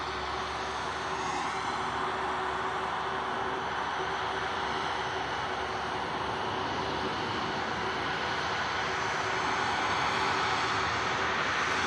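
Ryanair jet arriving from Cork at Manchester Airport, a continuous engine roar with a steady tonal hum, fairly distant and even in level, gradually growing slightly louder toward the end.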